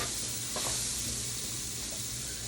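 Onions lightly browning in a pan give off a constant soft, hissing sizzle, quiet and even throughout, with no talk.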